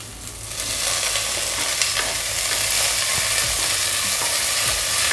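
Coriander and mint being stirred into onions frying for chicken kheema biryani, a loud, dense sizzle that swells up early and holds steady, with faint scraping stirs underneath.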